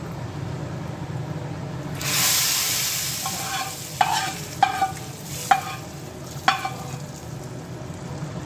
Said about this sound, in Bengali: 5 ফোড়ন দিয়ে একদম গরমরা করে ফোড়ন দেওয়া হবে।